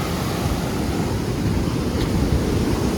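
Atlantic Ocean waves wash onto a beach in Portugal in a steady, loud roar of surf, with wind rushing over the microphone.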